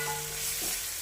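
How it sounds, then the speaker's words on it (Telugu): Onions, curry leaves, green chillies and tomato sizzle steadily in hot oil, a close, continuous frying hiss with a faint stirring scrape, no talk. "కరివేపాకు, 4 పచ్చిమిర్చి, 1 టమాటా వేసుకుని ఇవి కూడా మంచిగా ఫ్రై చేసుకోవాలండి"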